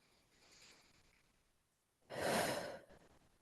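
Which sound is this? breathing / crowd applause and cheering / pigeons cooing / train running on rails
breathing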